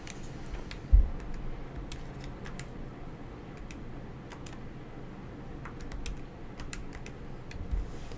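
Button presses on a calculator while working out 8 factorial divided by 5 factorial, a run of light, sharp taps at an uneven pace over a quiet room, with one low thump near the start.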